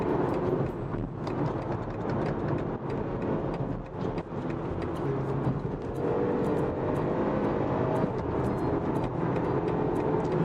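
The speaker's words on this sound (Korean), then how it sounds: "지금이 엔진 RPM이 6000rpm이 넘었는데요. 생각보다 고막을 찢는 그런 소음은 아닙니다." A BMW 120i M Sport's 20i engine spins past 6000 rpm during hard driving, giving a steady, dense roar with road and wind noise that stays loud and continuous throughout, with no talking.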